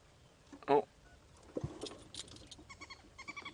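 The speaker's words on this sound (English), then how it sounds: "I hear another bird." Birds call during a sunrise safari drive, with a fork-tailed drongo and wood hoopoe noted nearby: brief scattered chirps and a repeated series of short whistled notes at the end, under soft rustling and a brief human sound.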